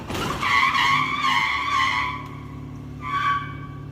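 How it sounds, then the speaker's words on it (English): A brand new Mercedes ramming into another car gives off loud, shrill tire squeals in two bursts, a long screech followed by a shorter one, with a low engine rumble underneath. "That's a really nice Mercedes to be ramming into a piece of shit car"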